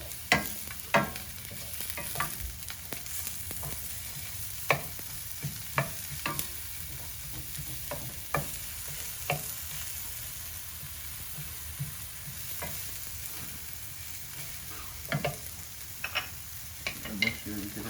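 Onions fry in a pot for Mexican meatball soup, a steady close sizzle broken by repeated scraping clacks of stirring, with no talk over it.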